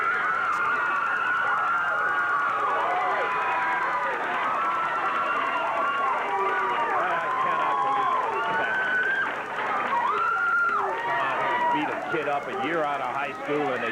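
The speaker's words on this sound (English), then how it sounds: "Listen to that crowd." Roaring arena crowd at a Memphis wrestling match, a dense sustained wall of cheering and shouting heard from a distance, with a commentator talking over it throughout.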